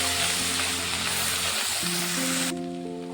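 Ground spices (cumin, ginger paste, chili paste and Kashmiri chili) fry and sizzle steadily in a pan, a dense broadband crackle that continues throughout, with no talking.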